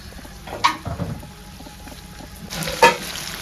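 Boneless chicken pieces frying in a pan as a dry chicken fry, with a soft steady sizzle and a few louder scraping stirs near the start and end.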